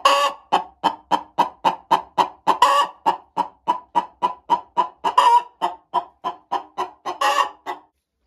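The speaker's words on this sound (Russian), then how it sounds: "Куры живут у меня на даче сами." Chickens cluck at a rural dacha, giving about two dozen sharp, evenly spaced clucks in a brisk rhythm, close and clear, with one or two louder squawks mixed in.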